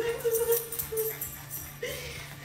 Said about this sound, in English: Even the dogs are going crazy.